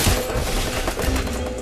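A burst of rapid gunfire in a mobile shooter game crackles loudly and densely for under two seconds.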